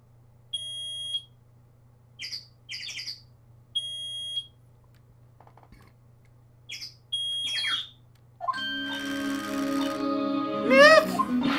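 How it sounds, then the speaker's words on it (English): Repeated short electronic beeps from a device in the Phoenix Wright: Ace Attorney video game, sounding in clusters of high tones against a low hum, followed by a brighter chiming game jingle near the end. "It's beeping!"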